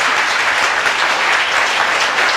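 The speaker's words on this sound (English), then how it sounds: "So clap and tell me no." An audience in a hall for a talk on ancient India bursts into steady, dense applause, many hands clapping together loudly and continuously throughout without a break.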